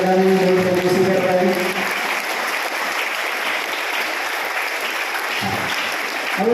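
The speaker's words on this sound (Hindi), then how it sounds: "तालियां बजाएं" Audience applause at a Christian prayer and night-vigil gathering at an ashram in Hazaribag, a steady dense clapping that fills the room. A speaking voice overlaps the opening seconds before the clapping carries on alone.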